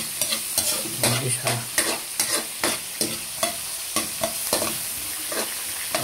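Garlic and onion sautéing together in a little oil, a close sizzle punctuated by brisk, regular utensil scrapes and taps against the pan, with one brief spoken word.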